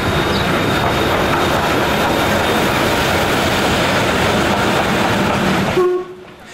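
A steam train on a Sunday heritage run out of Prague rumbles past loud and close, a continuous rolling roar with faint rail clatter that cuts off abruptly near the end, leaving a brief quiet tail.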